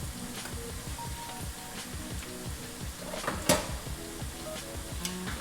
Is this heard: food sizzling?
yes